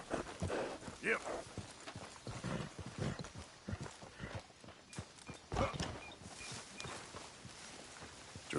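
Horse hooves clip-clop at a steady walking pace in the video game Red Dead Redemption 2, mixed with game music and ambient sounds while voices talk over them.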